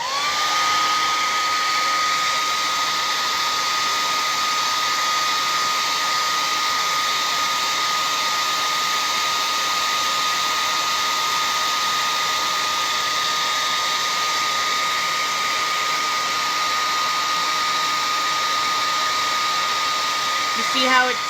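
A hair dryer blows steadily on a painted Easter egg, a loud continuous whirring roar with a constant whine that runs without a break, ending with a small bump.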